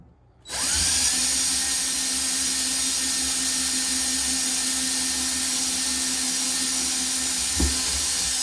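A power drill bores holes in a cabinet while a toilet paper holder is fitted. After a short quiet start, the motor whines loud and steady up close for several seconds, with a small bump near the end.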